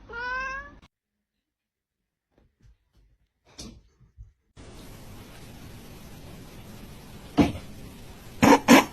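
A cat meows once at the start, clear and fairly close, with a rising-falling harmonic cry, followed by faint knocks, a hissy background and a couple of sharp bumps near the end.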